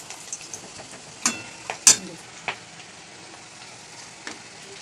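Kofta balls frying in hot oil give soft sizzling and a few sharp crackles and spoon stirs, faint and intermittent with brief louder pops near the middle.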